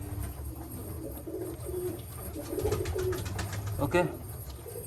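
A Malwai pigeon coos in low, rolling bursts, near and moderately loud, with someone briefly speaking and background noise around it.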